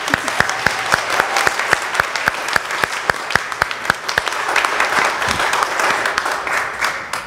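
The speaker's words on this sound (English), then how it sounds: "I think you may need to clap your hands again and pat yourselves on the back." A church congregation at a worship service breaks into steady applause, many hands clapping in a dense, sustained wash with a clear rhythmic pulse early on, filling the room at full volume before gradually thinning out.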